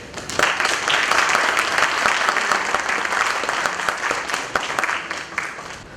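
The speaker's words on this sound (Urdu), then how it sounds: "تو ہم سب اپنے دل سے جن لوگوں نے خطاب نہیں کرنا وہ زوردار تالیوں میں بتائیں گے کہ ہم" A hall audience at a Multan tea house gathering claps loudly for speaker Malik sahib, dense sustained applause filling the whole stretch without talk.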